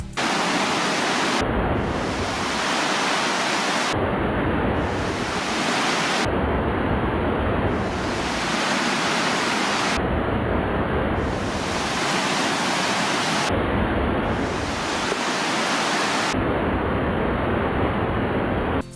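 Parakkuzhi waterfall in Chinnakanal, dropping about 150 metres over rocks between cardamom forests, roars with a loud, constant broadband rush. The sound is broken into repeated segments with brief dips between them.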